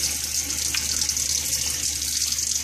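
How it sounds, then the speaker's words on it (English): A rag dunked and sloshed in a basin of warm water, giving a steady close splashing and trickling wash that runs throughout without pause. "You would just dump it in warm water."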